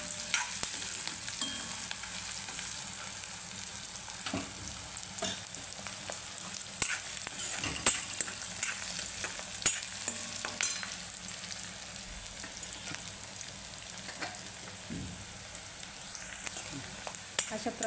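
Onion frying in a pan until brown, a steady close hiss of sizzling oil with frequent small scrapes and taps from stirring scattered throughout.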